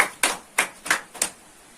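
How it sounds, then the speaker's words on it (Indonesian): A few slow, separate hand claps in a classroom, five crisp, evenly spaced smacks close by, applauding a student presenter after a lesson on anecdote texts. "Beri tepuk tangan untuk Yerika"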